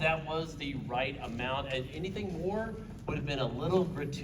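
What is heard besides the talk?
No distinct noise like a dog, phone or traffic.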